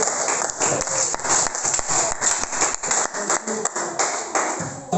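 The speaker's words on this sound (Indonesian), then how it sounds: "berikan tepuk tangan buat Ibu" An audience claps after a group presentation in a classroom or meeting, with sharp individual claps scattered and uneven rather than one uniform roar, loud and close throughout.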